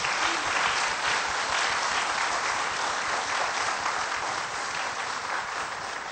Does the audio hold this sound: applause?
yes